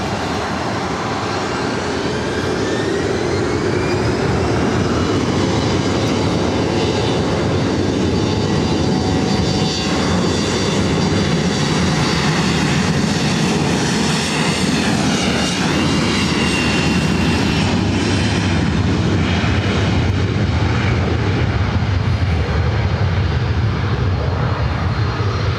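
An airliner takes off from runway 24 right at LAX, its jet engines producing a loud, continuous roar with rising whine that stays close and intense throughout.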